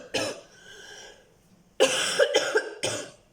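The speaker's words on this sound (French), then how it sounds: "j'ai une petite toux qui n'arrête pas de s'en aller, revenir" A person coughs in bursts: one sharp cough, a pause, then a close cluster of three harsh, rasping coughs in quick succession.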